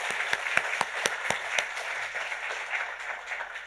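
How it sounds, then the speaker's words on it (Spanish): A small group claps, with crisp individual hand claps at first, then blending into thinner scattered applause that fades. "démosle otro aplauso"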